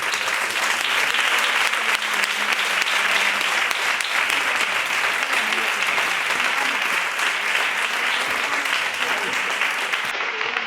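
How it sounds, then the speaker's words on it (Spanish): An audience at a flamenco education congress applauds three panelists, sustained dense clapping that stays loud and even for about ten seconds. "un aplauso a los tres"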